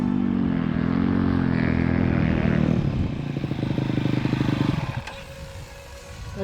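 A motocross bike on a hot lap rounds the final corner, its engine revving loud and close with a rising then falling tone, clattering as it backs off, and the sound fades as the bike pulls away.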